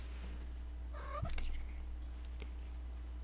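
A cat purrs and gives a short meow close to a new microphone, with a steady low hum running underneath and no talking.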